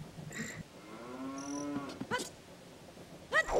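A cow mooing inside a house in the video game Ocarina of Time, one long low moo followed by short bright game chimes, fairly quiet and with no talking.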